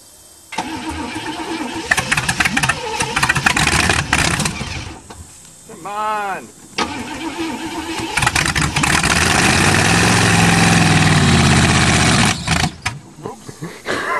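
An old Chevrolet car engine is cold started, with repeated bursts of starter cranking before the engine catches and runs loud and rough for several seconds, then cuts out.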